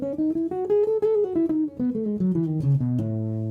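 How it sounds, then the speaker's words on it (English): A melodic line in the Lydian mode is played over a major 7 chord: a quick run of notes rising then falling, settling onto a sustained chord at the end, with no talking. "against that I would be looking at using the Lydian mode, which sounds like this."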